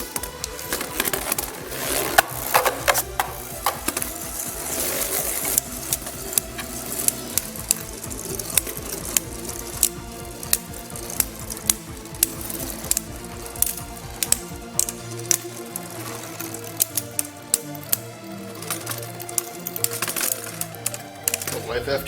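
Beyblade Burst spinning tops, including Torch Flame Pegasus, whir and clash repeatedly in a plastic stadium, sharp clicking collisions recurring in an uneven rhythm over a steady spinning hum, with people talking throughout.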